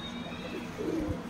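Salary Teddy pigeons, a breeding pair, coo softly, a low murmuring call rising near the end, with faint background hiss and no talking.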